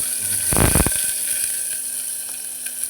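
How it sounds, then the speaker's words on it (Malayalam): Mustard seeds dropped into hot oil for a potato masala curry, heard as a brief burst of crackling and popping near the start over a steady background hiss, then faint scattered spits. "നമുക്കിതിരി കടുകിട്ട് കൊടുക്കാം പൊട്ടട്ട"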